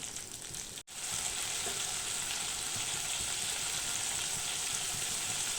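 Close, steady sizzling of bitter gourd frying in hot oil, a dense crackling hiss with a brief pause near the start, then continuous.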